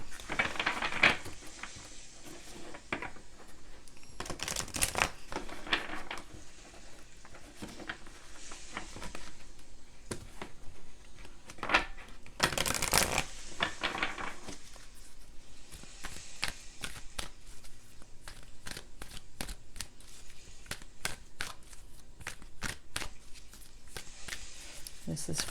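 A deck of oracle cards is shuffled in repeated bursts of riffling and sliding, close and fairly loud, with quieter handling noises in between and no talking.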